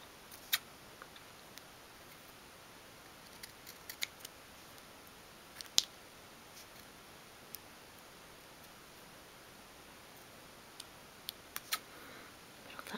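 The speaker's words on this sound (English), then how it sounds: "I'm just going to trim the paper off at the back." Small scissors trim paper for a 1/12th scale miniature food packet, giving sparse sharp snips and clicks at irregular intervals over quiet room tone, with no talking.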